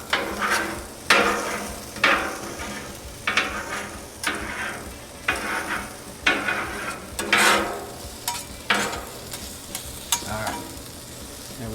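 Onions being chopped and stirred with a spatula on a Blackstone griddle, giving a steady sizzle with repeated scraping strokes about once a second, close and fairly loud.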